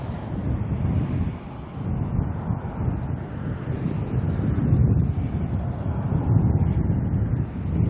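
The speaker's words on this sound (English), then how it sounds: "This wind is going to bug us all" Wind buffets an outdoor microphone at an airport plane-spotting spot, a steady loud rumbling roar with gusty swells that fills the whole stretch, no talking over it.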